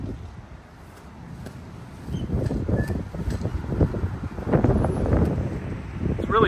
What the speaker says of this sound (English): Really windy, so I don't know if you can hear me